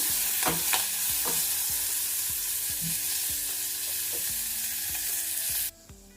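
About fifteen carom (vamaku) leaves fry in a pan with a steady hiss, while a spoon stirs them with regular clinks against the metal, and the sound drops away sharply near the end.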